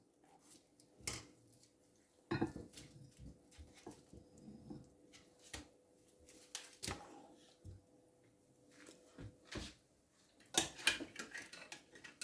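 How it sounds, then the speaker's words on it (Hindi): Kheer ladled into serving dishes in a home kitchen, with scattered clinks and taps of a spoon on dishes and a louder clatter now and then, in a quiet room with no talk. "मैं खीर को डिश आउट करने लगी हूँ"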